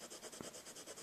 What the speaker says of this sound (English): I'm going to use my bone folder and just rub it, rub it, rub it